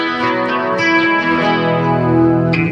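An electric guitar shaped into an acoustic-style tone through a BOSS eBand JS-10 rings out in sustained strummed chords with bright harmonics, loud and alone.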